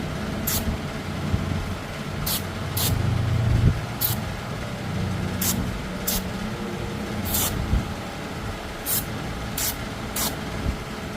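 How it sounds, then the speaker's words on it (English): Brake cleaner aerosol sprayed in a series of short, sharp hissing squirts, about nine bursts spaced irregularly over a steady low engine-like rumble in the background. "give a little squirt of that brake clean"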